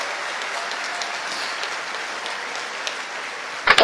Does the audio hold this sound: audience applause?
yes